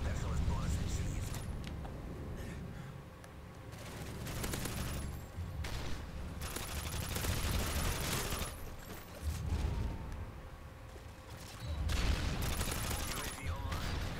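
Sustained bursts of automatic gunfire from an MK46 light machine gun in Modern Warfare 3, loud and dense with short pauses between strings, mixed with game effects and someone talking over it.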